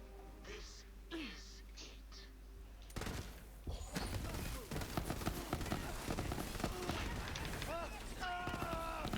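Rapid burst of gunfire from a Barrage weapon in Borderlands 3, erupting loud and dense after a quieter opening and continuing with crackling shots and effects.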